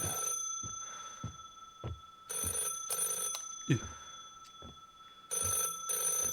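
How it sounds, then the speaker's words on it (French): A telephone rings inside the horror game Unmourned, sounding in repeated bright bursts with pauses between them, fairly faint, alongside soft thumps and no speech. "C'est qui ce téléphone?"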